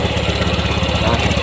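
A Honda Vario 150 scooter with a stalling throttle-body fault, its engine cranking and running in a loud, close, steady rough putter for a brief moment.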